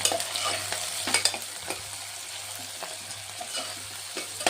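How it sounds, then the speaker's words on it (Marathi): Ginger-garlic paste with shahjeera and cumin stir-fries in oil for Latur-style Nilanga rice, a close sizzle with scraping stirring strokes and scattered clicks of a spoon against the pan. "या मिश्रणाला ना आपल्याला एकदा छान असं परतवून घ्यायचं तेलामध्ये"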